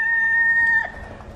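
Chickens in a backyard coop fitted with storm windows for winter give a steady sustained call for under a second, then softer, scattered clucking close by.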